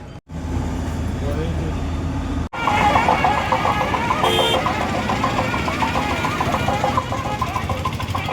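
Pilgrim bus engine idling and rumbling at the Medaram Jathara tribal festival in Telangana as passengers reboard, a steady loud diesel knock with a brief cut near the start, close and continuous.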